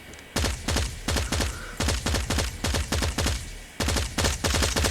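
Rapid bursts of AK117 automatic rifle fire in Call of Duty Mobile ranked play, loud and close, several separate volleys of fast shots with brief gaps between them and no talking.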